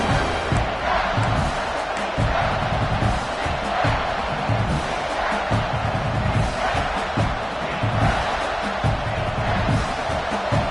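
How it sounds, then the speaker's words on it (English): A huge stadium crowd at a Clemson versus Michigan college football game roars steadily for the defense near the goal line, a dense, loud, continuous wall of cheering and shouting with swelling bursts throughout. "And this big crowd doing everything possible to inspire this defense down here near the goal line."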